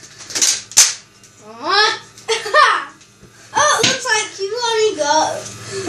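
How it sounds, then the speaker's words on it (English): A toy cap gun snaps off two sharp shots close by, followed by children talking and laughing loudly. "I'm firing six times because Lee had 12 shots against me."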